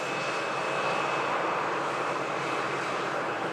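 Airliner on approach to Manchester Airport after a flight from Palma de Mallorca, with a steady, loud broadband engine roar holding constant throughout, no voices.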